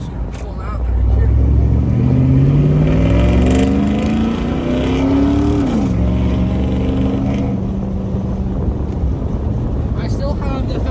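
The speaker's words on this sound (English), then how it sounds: "But love this exhaust. It's very loud, great sounding." A Chevy Avalanche V8 with a muffler delete and factory catalytic converters still in place pulls out into traffic. A loud, deep exhaust rumble climbs in pitch as it accelerates, drops back briefly, then settles into a steady drone.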